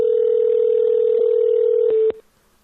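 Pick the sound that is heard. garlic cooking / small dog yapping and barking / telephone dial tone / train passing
telephone dial tone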